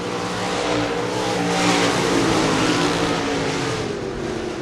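Race cars racing at Diamond Mountain Speedway under green flag conditions, a loud continuous roar of several engines blending together as the pack runs, with no commentary audible.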